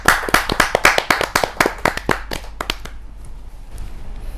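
A small audience claps to welcome a poet at a Hindi poetry gathering, sharp individual claps close by in a quick run that thins out and stops after about three seconds, leaving quiet room tone.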